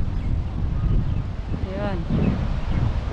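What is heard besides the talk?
wind blowing in a park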